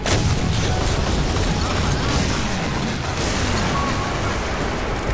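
Warship guns fire in the mobile naval combat game Modern Warships as a dense, continuous roar of booming artillery and explosions. The noise stays loud and unbroken throughout.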